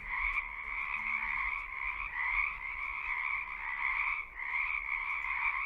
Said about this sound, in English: It's a real cacophony of frogs there, Ben.